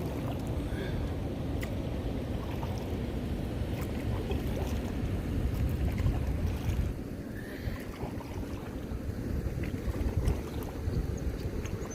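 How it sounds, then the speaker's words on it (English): Canoe paddled solo into a headwind on the Larder River: steady rushing wind and water noise buffeting the microphone, with faint paddle strokes and splashes, continuous and close, no talking. "Paddling into the wind."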